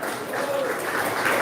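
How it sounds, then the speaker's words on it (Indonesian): Audience applause at a thanksgiving and soft launching event, a steady wash of many hands clapping at moderate distance, continuous through the moment. "Tepuk tangan"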